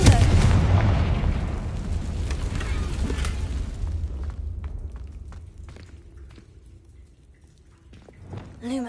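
A Confringo spell blast in the video game Hogwarts Legacy erupts as a loud booming explosion that rumbles and fades over several seconds, with light crackling debris afterward.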